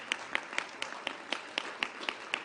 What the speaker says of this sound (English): So I want to give them another round of applause.